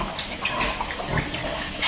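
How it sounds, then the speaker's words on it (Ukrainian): A pig snuffles and grunts close by, struggling to drink, amid splashing and slurping water at a drinker, with muffled knocking in the background. "Старається свиня напитися води, але в неї не виходить."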